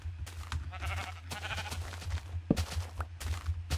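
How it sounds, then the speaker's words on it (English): A pink sheep in a building video game bleats several times in short, clear calls, near and moderately loud, over a steady low hum with no talking. "I noticed, look at this. It's a pink sheep."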